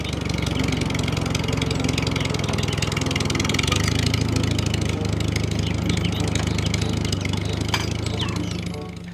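A toy tractor makes a steady mechanical engine hum with a low droning pitch, running continuously throughout, fairly loud and close, with slight shifts in tone.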